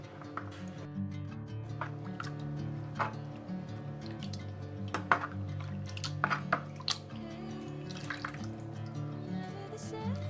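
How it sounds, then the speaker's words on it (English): Water drips and splashes softly as soaked abacha (shredded cassava) is squeezed and strained through a sieve, with small irregular trickles and squishes over a low steady hum. "this is what you do to sieve the water out"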